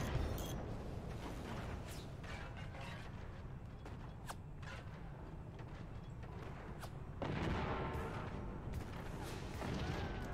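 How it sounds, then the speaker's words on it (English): Howitzer shells in the video game Forts crash and boom in a busy barrage, with creaking structures and repeated sharp impacts over a dense, continuous clatter. "those howitzers are gonna come from the heavens"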